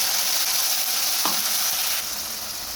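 Spice paste stirred into fried onions in a hot pan gives a constant loud sizzle and hiss, with one brief scrape of the spoon partway through.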